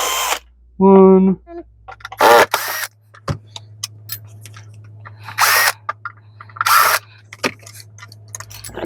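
Power drill backing screws out of a cracked fan housing on a Riccar, Simplicity or CleanMax ultra light vacuum: several short whirring bursts separated by clicks and handling noises, close up, with brief speech.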